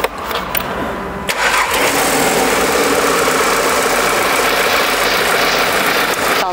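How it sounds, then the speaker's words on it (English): A used car's engine cranks, fires up and settles into a steady, loud idle with a continuous rough rumble, heard close with no talking. "Sounds like an engine."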